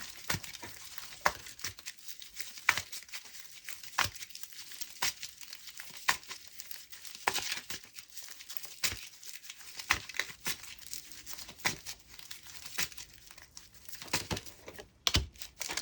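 Tarot cards being shuffled and drawn by hand, with dry crisp flicks and slaps of card stock at irregular intervals over a quiet background, close and fairly soft.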